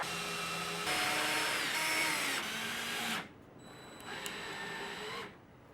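A 25mm Forstner bit bores a hole through a workbench jig plate, a steady whining drill cut that ends abruptly and gives way to a quieter, lower motor hum before stopping.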